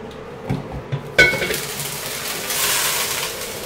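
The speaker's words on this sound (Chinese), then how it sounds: "就是切片啊，然后放点油，来爆炒一下。" Sliced mushrooms hit hot oil in a pan for a quick stir-fry, giving a sudden loud sizzle after a few light clatters, then a steady frying hiss with scraping, up close.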